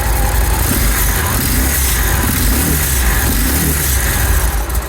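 A Victory Cross Roads V-twin motorcycle with standard pipes idles close by, a loud, even, throbbing rumble that holds steady with no one talking.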